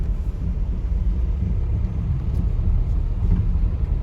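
A Renault Duster rolls along a road on a damaged tyre, a loud, steady low engine and road rumble close by throughout, with no one speaking.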